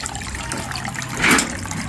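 Water pours into a small fish tank as it fills, a close, steady trickling stream that swells briefly near the end, with no talking.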